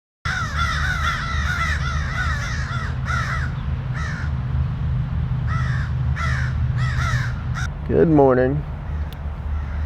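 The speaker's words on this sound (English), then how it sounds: "I was awoken by an entire flock of crows" Flock of crows caws in the early morning at an outdoor campsite, repeated harsh caws in loose bursts from several birds at moderate distance over a low steady hum, with one rising call near the end and a voice speaking briefly.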